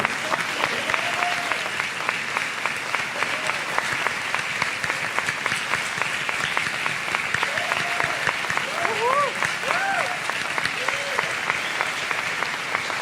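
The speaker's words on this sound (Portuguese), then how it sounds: "E eu queria pedir uma salva de palmas para as nossas mães." A church congregation applauds the mothers standing among them, a long, steady roar of many clapping hands filling the hall, with voices and cheers rising through it.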